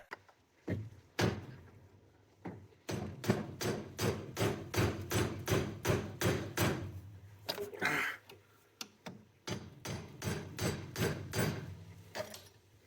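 Metal tools knock and thud in fast repeated bursts while a bushing collar is worked loose on a Bobcat 753 skid steer loader, close and uneven, with brief pauses and a grunt of effort.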